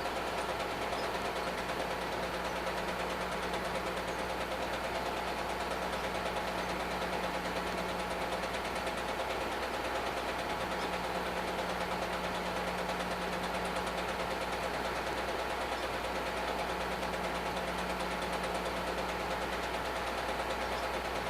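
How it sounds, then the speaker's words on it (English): A big old steam engine runs in a town centennial parade in Dedham, giving off a loud, continuous mechanical drone with a low, steady throb that stays close and never breaks for the whole stretch. "Big old steam engine."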